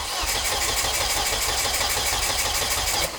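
A Volvo S40 fitted with a Speeduino ECU and a Holset HX40 turbo cranks over without firing, a loud, steady, rapid rhythmic churning of the starter that runs nearly the whole time and drops off at the very end.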